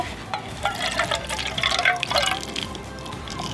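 Water poured from a small can onto a freshly planted carrot in soil in an indoor lockdown garden, a soft continuous trickle and patter of droplets, close and fairly quiet, with no talking.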